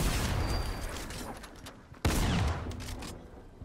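Gunfire bursts in a Fortnite match, a rattling volley fading out before a sharp loud report and another quick flurry of shots, close and punchy with no talk.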